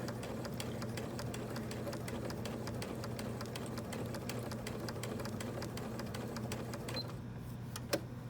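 A sewing machine stitches at a fast, even rhythm, its needle ticking regularly over a steady motor hum, close and fairly quiet, running continuously before stopping abruptly near the end.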